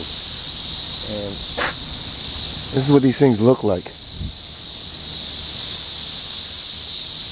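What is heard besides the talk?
cicadas buzzing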